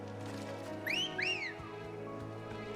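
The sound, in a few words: whistle by a character in the video game Final Fantasy XVI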